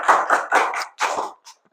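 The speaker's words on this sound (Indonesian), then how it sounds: "Tepuk tangan untuk kelompok 1." Group applause in a classroom for the first group, heard as several short bursts of hand clapping in an uneven rhythm. The bursts fade to a brief final burst.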